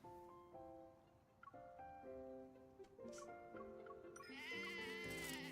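Sheep bleating in the video game Love and Deepspace, wavering bleat-like tones that step through several pitches over a few seconds and grow louder and brighter toward the end, with no talk.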